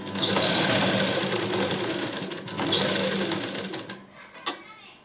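A sewing machine stitches a hook strip onto fabric, running in steady whirring bursts with a brief pause near the middle before slowing and stopping near the end.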